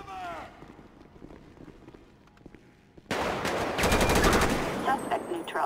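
Rapid automatic gunfire in GTA 5 during a SWAT mission: a sudden, loud burst of fast repeated shots erupting after a few seconds of quieter game sound and a short voice, continuing densely to the end.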